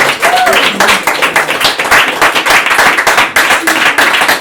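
An audience at a poetry slam gives a round of applause, with close, crisp claps from many hands in an uneven rhythm, alone without talk.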